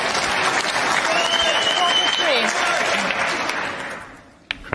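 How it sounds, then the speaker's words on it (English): Snooker crowd at a tournament match applauds a shot, a dense sustained clapping that fills the hall, then tapers away toward the end, with a commentator talking over it. "Crowd loving it as well."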